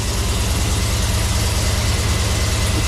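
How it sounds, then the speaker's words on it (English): A newly installed 5.3 V8 engine idles loud and close, its rough, lumpy pulsing steady and continuous with no talk over it. "Looks like it's idling like crap."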